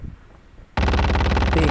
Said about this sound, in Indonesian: ada tembakan di arah kanan